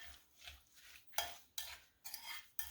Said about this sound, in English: So now I'm just mixing this up.